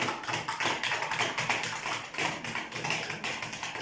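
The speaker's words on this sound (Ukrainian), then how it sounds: "Спробуйте постукати." Rapid, continuous tapping of small hammers wielded by children on hard objects, many strikes overlapping in a busy clatter, close by and steady throughout.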